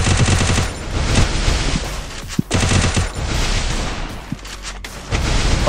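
Rapid gunfire in an online battle-royale shooter, loud bursts of shots with brief pauses between volleys and a few sharp single cracks, with no speech over it.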